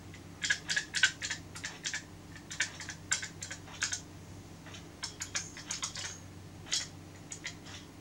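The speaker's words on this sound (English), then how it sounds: "Only the very lightest of touches is now required on the keys." Keys clatter on the repaired keyboard of a Commodore SX-64 computer in quick, uneven bursts of light clicks, close and fairly quiet, with brief pauses between runs and a faint background hum.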